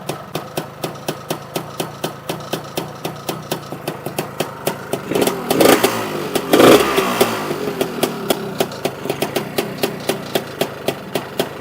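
A Lambretta scooter fitted with a BGM Pro MZ30 exhaust idles with a rapid, even two-stroke popping and clatter, briefly revving louder twice in the middle before settling back to a steady idle close by.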